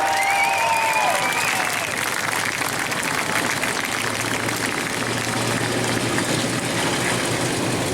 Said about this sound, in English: Ladies and gentlemen, make some noise for Brooke Store, your race winner